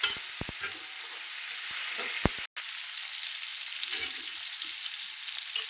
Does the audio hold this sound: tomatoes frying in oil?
yes